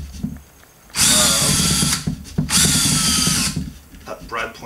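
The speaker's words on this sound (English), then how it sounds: "You want to drill from the outside first until" A power drill with a brad point bit bores holes through a wooden drum shell in two loud, sustained bursts of about a second each, with quieter handling and shop noise between them.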